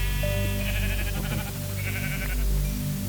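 Sheep in an old lost Minecraft version bleating as they are hit repeatedly, a close, loud run of buzzy bleats stacked over a steady droning game background.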